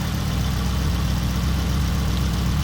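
A Volvo car engine idles steadily and close by, a continuous low rumble with a slight shake, holding even throughout with no talking.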